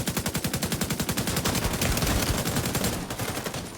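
Rapid automatic assault rifle fire in The Division 2, a continuous loud stream of evenly spaced shots rattling for nearly four seconds before easing slightly at the end.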